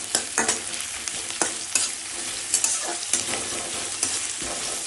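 Garlic, ginger, onion paste and chopped green chillies stir-fried together in a pan for a fish curry, a loud steady sizzle with rhythmic scraping strokes of a spatula close by.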